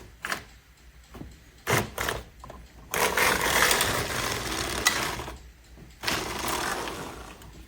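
A knitting machine carriage slides across the needle bed, set to stitch size 7 while binding off a sweater top, giving loud mechanical clattering sweeps in bursts separated by short quiet gaps, close up with no talking.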